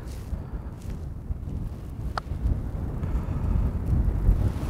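Wind buffets the microphone on an open golf course, a steady low rumble that swells toward the end, with one brief faint click partway through.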